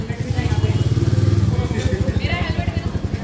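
A 2024 Royal Enfield Meteor 350 motorcycle idles close by with a deep, rapid thumping pulse. People talk over it throughout.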